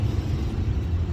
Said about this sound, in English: if you hear a noise in the background, that is the heater